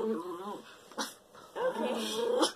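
A miniature schnauzer growls in short, throaty bursts at close range, rising into snarling, yippy whines with a brief gap between the two outbursts.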